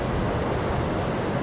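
Steady broadband rush of river water spraying below a bridge, clean and clear, a continuous loud wash with no breaks and no voices.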